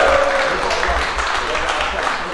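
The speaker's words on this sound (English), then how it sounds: "Massive round of applause for Right" A crowd applauds loudly after results are announced at a Fluidity competition, a dense, continuous clapping wash with voices mixed in.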